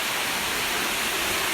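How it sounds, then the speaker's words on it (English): Steady broadband rush of water flowing along a trough toward a water wheel in a Pembrokeshire countryside setting, a continuous close hiss with no talk. "This is the water wheel here. And the water comes along that trough."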